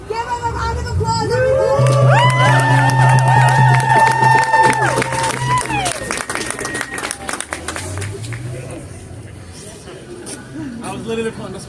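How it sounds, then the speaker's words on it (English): A protest-rally crowd at a pro-Palestine gathering in Brooklyn bursts into loud applause and cheering, with clapping and whistles peaking early, then tapering into murmuring crowd noise near the end. "Give him a round of applause"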